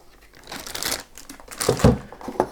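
Crinkly plastic bag being handled while unpacking a PogoLab S3 5-watt battery mini guitar amp, a few short rustling bursts close up with no talk.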